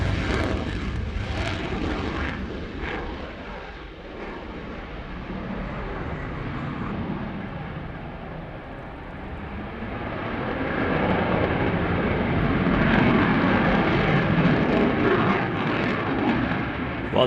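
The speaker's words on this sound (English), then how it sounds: "The Belgians certainly do know how to fly their F-16s" Belgian Air Component F-16 fighter jet flying a display at the Royal International Air Tattoo, a loud, rushing jet roar that dips midway and then swells again toward the end, with no talking.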